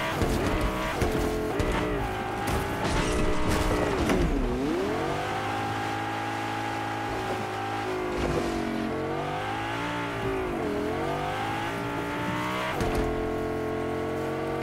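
Car engine droning steadily while driving in the Fortnite video game, pitch sweeping up and down with gear changes and throttle, loud and continuous throughout with brief tire noise.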